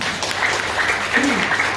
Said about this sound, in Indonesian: tepuk tangan buat Bu Haja Linda